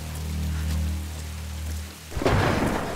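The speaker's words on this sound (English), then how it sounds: "I have to take shelter from this storm" A thunderstorm rumbles in Tomb Raider Definitive Edition, with steady rain hissing under a low rolling thunder that swells into a louder, crackling burst toward the end.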